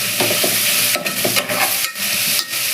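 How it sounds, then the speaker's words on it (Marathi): Onions frying in a generous amount of oil, with a steady broadband sizzle and irregular stirring scrapes recurring about every half second, close and fairly loud throughout. "तेल थोडं जास्तच टाकूया लवकर कांदा भाजेल"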